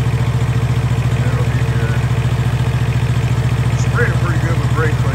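A truck's APU engine runs at a steady idle, its exhaust pipes burning off spilled diesel and oil, giving a loud, even mechanical clatter throughout while someone speaks briefly near the end.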